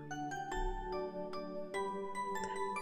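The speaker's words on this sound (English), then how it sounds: "Sleigh bells." Chiming, bell-like Christmas music playing in the main menu of the Slay Bells video game, a run of bright tinkling notes struck one after another over a sustained tone, steady and moderately loud with no one speaking.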